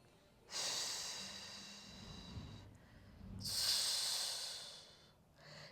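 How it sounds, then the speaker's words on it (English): Two strong, hissing exhales through the mouth come during a core yoga exercise, each lasting a couple of seconds, close and fairly quiet with a short pause between them. "Use that strong breath."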